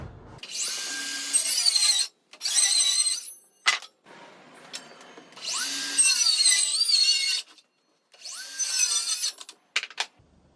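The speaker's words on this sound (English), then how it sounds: "I'm gonna cut a block of wood" Power tool cutting and trimming a corner off a small block of wood, in several loud high-pitched whining bursts separated by short pauses, with a final brief burst near the end.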